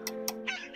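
Hens in the Slime Rancher video game give a few quick, close clucks over a low steady game hum, short bright bursts spaced irregularly across less than a second.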